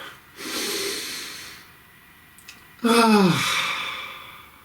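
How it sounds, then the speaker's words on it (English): A person draws a long, slow breath in, pauses briefly, then releases it in a loud, airy exhale close to the microphone, alone without talk. "Please take a nice deep breath."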